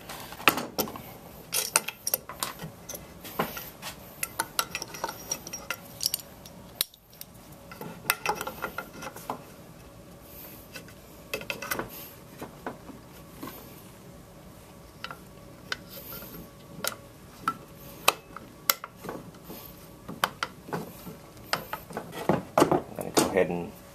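Small metal gun parts click, tick and clatter up close while a trigger is fitted into a gun to engage the sear, an irregular run of sharp mechanical taps beneath a voice.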